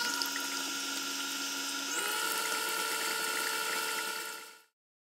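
An electric mixer whirs steadily through egg, sugar and vanilla for whoopie pie batter, a loud continuous close motor drone that shifts pitch slightly partway, then cuts off abruptly.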